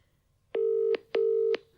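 A phone line's ringback tone plays while a call to a restaurant owner in Cape Town waits to be answered: two steady, clear double-ring bursts, each about 0.4 seconds long, separated by a short pause, with no voices.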